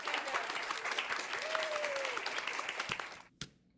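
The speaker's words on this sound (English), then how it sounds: "She does a short bow and everyone begins clapping." An audience claps in a visual novel game scene, a dense steady patter of applause from a crowd running for about three seconds before cutting off abruptly, with a faint tone gliding through the middle.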